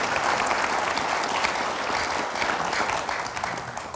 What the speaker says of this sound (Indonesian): Oke, kita berikan tepuk tangan dulu